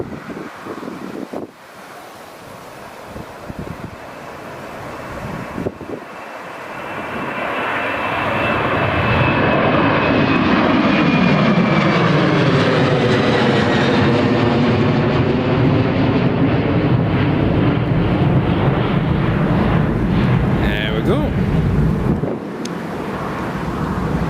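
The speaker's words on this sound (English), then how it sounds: "here's Jet2's 737-800, just rolling down runway 25 now" A Jet2 Boeing 737-800 rolls down runway 25 at Newcastle International Airport and takes off. Its jet engine roar swells from a quieter start into a loud, sweeping thunder that passes overhead and then fades slightly, with wind buffeting the microphone.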